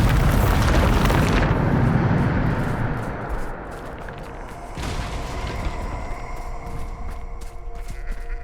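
A Bombarda spell explosion in Hogwarts Legacy, a loud close boom with a rumbling roar that decays over a few seconds into lingering debris and ambient game sounds.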